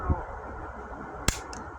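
A single sharp, cracking shot comes from an air gun firing at a brick outdoors. A fainter click sounds just before it, and low background noise runs under everything.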